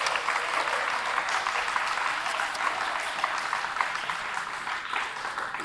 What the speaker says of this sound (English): Samuel Tuckers, can you give her a big round of applause as she comes before us?